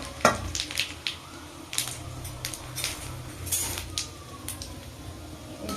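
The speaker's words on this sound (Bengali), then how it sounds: "এটা একটুখানি ভাজা ভাজা হোক" Three whole spices tossed into hot oil for tempering, giving a soft, steady sizzle with scattered sharp crackles and light pan clicks. Close and alone, with no talk.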